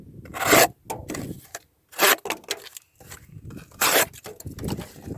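A WE Knives Minax blade with a recurve edge slices through material in several separate rasping strokes, each a short scraping rub, close and fairly loud with quiet gaps between.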